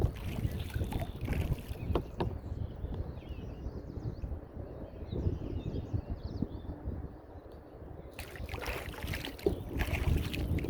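A kayak glides across a mill pond with soft paddle splashes and water noise. Outdoor wind rumble runs throughout, and birds chirp faintly in the background.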